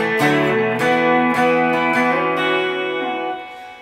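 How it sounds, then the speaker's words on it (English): A guitar plays a riff fill from a song, bright chiming chords struck in a quick rhythmic pattern, close and clear, ringing out and fading at the end. "I'll just show you another little riff fill option there."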